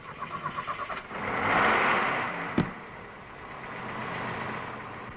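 A car engine cranks with about a second of rhythmic starter chugs, then catches and settles into a steady idle. A single sharp knock or thump cuts through midway, and no one speaks.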